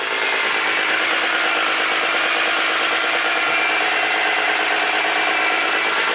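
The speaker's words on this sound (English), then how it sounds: "Guys, so the engine's running." A Toyota 1JZ engine, freshly swapped into a budget build, runs steadily at idle, filling the space with a loud, continuous mechanical drone and faint ticking roughness with no voices.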